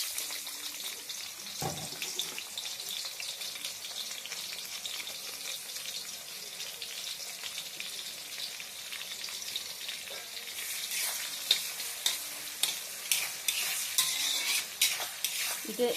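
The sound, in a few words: onions frying and stirred in hot oil in a pan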